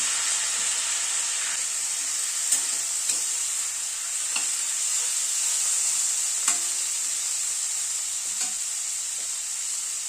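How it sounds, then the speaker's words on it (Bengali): Chopped tomato hissing in a hot pan for spinach dal, a steady bright sizzle with a few soft stirring clicks and taps, close and even. "এখানে একটা টমেটো কুচি করে কেটে নিয়েছি, সেটা দিয়ে দিলাম।"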